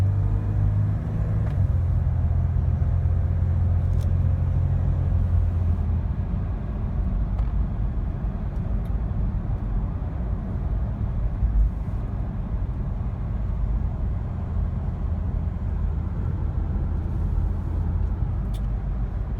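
Car engine rumbling steadily at close range as the vehicle accelerates, with a deep continuous drone and a slight rise in pitch early on, no voices.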